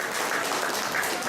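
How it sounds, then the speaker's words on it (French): An audience claps for Bram after his stage of the day, a dense, steady wash of applause from many hands throughout, fairly loud and continuous with no pauses. "On salue Bram, s'il vous plaît, vos applaudissements"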